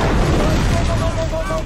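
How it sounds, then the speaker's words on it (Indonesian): A loud explosion in a film, a dense roaring burst that fills the short moment and rumbles on throughout, with a steady tone ringing faintly beneath it before it cuts off abruptly. "yang mana terjadi sebuah ledakan"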